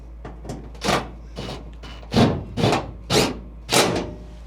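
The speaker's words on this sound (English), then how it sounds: "Got my zip screw installer device right here." A zip screw installer re-establishes screw holes in a rusted car floor pan, giving a series of sharp, loud mechanical bursts and rattles, several in quick succession at close range with short pauses between.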